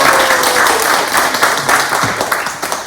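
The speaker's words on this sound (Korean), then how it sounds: "다시 한번 큰 박수 주세요." An audience applauds at a church youth coming-of-age ceremony. The clapping is loud, dense and steady, then thins out toward the end.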